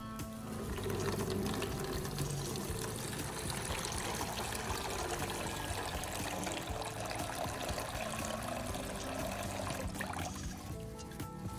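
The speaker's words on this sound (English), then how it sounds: "I'm going to pour it into a plastic container to take a closer look inside." Liquid, rainwater with sediment from an old car battery, pours and trickles steadily into a plastic container, a continuous close splashing stream with no talk.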